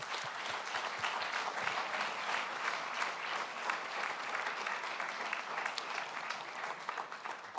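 Continuous crowd applause at a one-day open source conference, steady and moderately distant, a dense wash of many hands clapping for sponsors that holds evenly for several seconds without speech over it.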